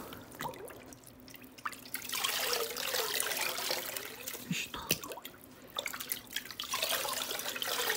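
Tap water runs steadily over an aquarium filter being rinsed, with splashing and dripping throughout and a brief quieter stretch midway.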